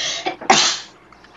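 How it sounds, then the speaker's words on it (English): A single close sneeze from a person, a short intake followed by a sharp loud burst that trails off into quiet. "Hold on, I'm about to sneeze."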